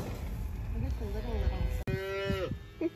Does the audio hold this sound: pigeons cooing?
no